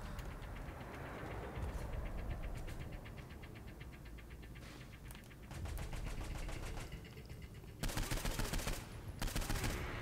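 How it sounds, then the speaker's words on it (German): Rapid automatic gunfire from the Saints Row IV video game, firing in long rattling bursts with brief gaps and sharper loud volleys near the end, steady and prominent throughout. "So, Alter, ich schieße hier immer auf meine Teamkollegen."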